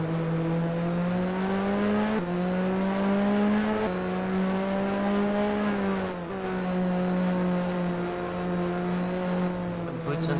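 Minardi Formula 1 race car engine at Monza in a racing game, a steady high-pitched whine held at high revs, briefly dipping at gear changes, under commentary.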